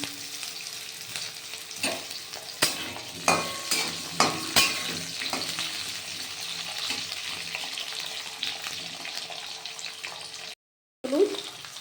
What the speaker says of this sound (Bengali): এই আলুগুলো দিয়ে একটু নাড়াচাড়া করে তারপর দেবো